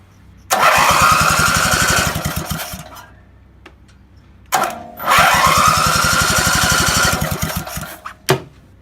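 An old lawn mower engine, brought back after more than ten years, runs rough on two cylinders in two loud, close bursts of chugging firing, each dropping away to near silence before a final short cough.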